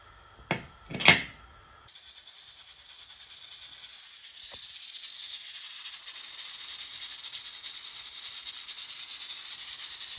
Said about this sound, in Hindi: तो प्रेशर कुकर की सीटी मैंने 5 मिनट तक बजाई है